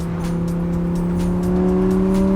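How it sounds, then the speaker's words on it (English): A Lamborghini's exhaust in sport mode gives a steady droning engine tone that rises slightly in pitch, as heard from inside the car with no talking. "It at least gives you the exhaust noise."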